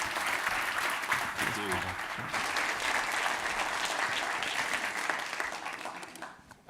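Audience applause for Paul Dennett, mayor of Salford City Council, at a creative cities event: steady, dense clapping from a sizable crowd lasting several seconds before fading out.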